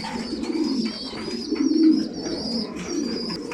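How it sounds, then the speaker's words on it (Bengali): A male Red Chika pigeon in breeding season coos close by in repeated soft, throaty rolls, alone with no voices. "আমার সবচেয়ে পছন্দের একটু নর কবুতর রেড চিকা"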